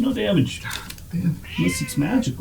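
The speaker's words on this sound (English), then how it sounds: "Well, that is a angry cat." An angry cat yowls and meows in drawn-out, wavering cries, loud and close, between and over people talking around a tabletop game.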